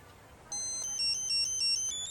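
A cell phone rings with a bright, electronic ringtone that starts abruptly and repeats in short, even pulses. It is close and clear over a quiet background, with no talk.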